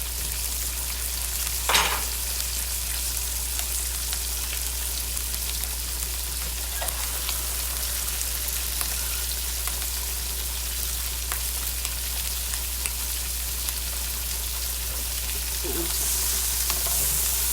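Peppers and onions sauté in a pan with a continuous close sizzle and occasional utensil clinks, and a low steady hum sits under it; no talking.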